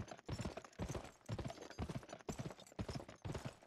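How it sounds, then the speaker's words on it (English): Horse hooves pound in a quick, rhythmic gallop while riding in the Western video game GUN, a steady close clip-clop with no voices. "And it seems I was riding my horse too hard."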